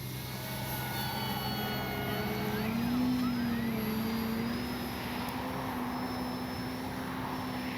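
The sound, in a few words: FMS PA-18 Super Cub RC model plane flying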